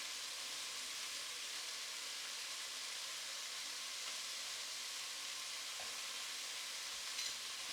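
Minced garlic sizzles in a pan of harissa chickpea stew, a constant soft frying hiss with faint stirring scrapes, heard alone without talk.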